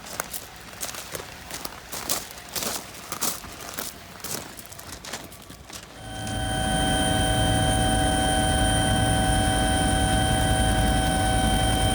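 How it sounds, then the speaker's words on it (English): Footsteps and rustling shift abruptly to a helicopter's loud, steady engine roar and turbine whine, close and constant, on a trip to glacier country in Canada. "Bobbie Browns, finally we arrived via helicopter"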